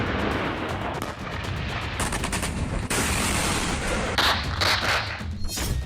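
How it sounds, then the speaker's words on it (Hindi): Rapid bursts of heavy Russian howitzer artillery fire boom in quick succession, loud and dense, with sharp repeated reports layered over a constant rumbling background. "डोनेत्स्क और लुहांस्क के हर कोने में रूस की होवित्जर तोपें गोले दाग रही हैं।"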